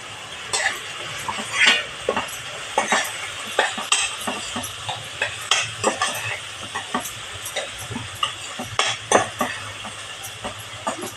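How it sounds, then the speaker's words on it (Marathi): Onion and tomato are stirred in a pan for dal khichdi, a spoon clinking and scraping against the metal in uneven taps and clicks, soft sizzle faintly underneath. "आपला कांदा आणि टोमॅटो बऱ्यापैकी चांगला परतून झालेला आहे"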